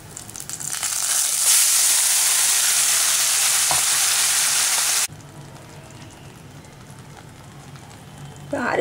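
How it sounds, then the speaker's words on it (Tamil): Ground spice paste sizzles loudly as it sautés in hot oil for a Tamil bitter gourd gravy, a steady dense frying hiss that drops sharply to a quieter simmering crackle partway through. "இப்போ அரைச்ச விழுதை நம்ம சேர்த்துட்டோம். இது வதங்கட்டும்."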